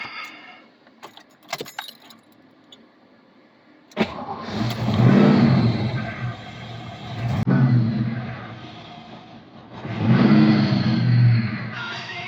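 Keys jangle briefly, then a 1989 Ford Mustang GT 5.0 convertible with a custom supercharger cranks and catches, idles cold around 1,000 rpm, and revs up twice in strong swells before settling.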